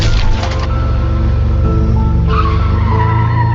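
A car skids hard with screeching tires and a loud crack as it smashes through a gate, the engine roaring steadily throughout in a dramatic, continuous burst.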